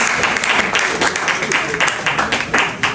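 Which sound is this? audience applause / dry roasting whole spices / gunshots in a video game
audience applause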